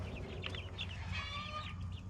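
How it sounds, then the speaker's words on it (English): Hens cluck and cackle in short repeated bursts after one lays an egg, a little distant, over a low steady background hum. "sounds like one of our chickens may have laid an egg"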